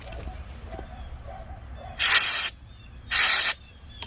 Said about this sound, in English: Just spray it off with a little air.